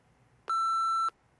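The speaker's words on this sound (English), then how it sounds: "What's that beep?" A single electronic beep from a phone signals an incoming text message: one clean, steady tone lasting about half a second against quiet background.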